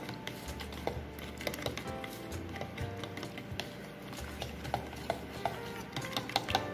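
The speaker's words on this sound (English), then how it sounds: "And then you want to mix it into a smooth paste." Eggs and cornmeal being stirred into a smooth paste for a corn pie, a soft steady scraping of a utensil against a bowl with occasional light clicks and taps, close and quiet.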